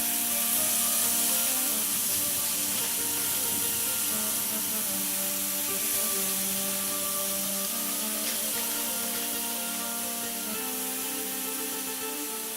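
Lebanese kofta kebabs sizzle in a hot pan, a steady, loud spitting hiss of frying meat that runs unbroken throughout with no talking.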